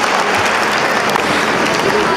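Dense, loud applause from a large graduation ceremony audience honoring the board of trustees, a continuous roar of clapping at steady intensity.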